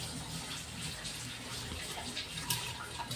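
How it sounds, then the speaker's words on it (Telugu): Water pours steadily into a home fish tank after cleaning, a continuous splashing gush with no voices. "ఇప్పుడు ఏదో ఉన్న తక్కువ వాటర్ని మేము అందులోకి యాడ్ చేస్తాము"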